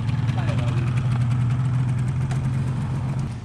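A motorcycle engine idles with a steady low rumble throughout, close by, while people talk nearby at a rest stop in Malaysia.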